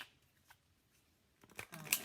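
Tarot cards being shuffled in a quiet room: near-silence gives way to a short burst of papery riffling and snapping card noise in the last half second, close and fairly soft, with no voice over it.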